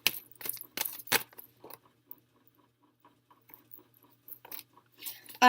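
Tarot cards being shuffled by hand give a quick run of crisp, papery riffling bursts, then a quiet pause, and a few more soft shuffles near the end, close up with no talking.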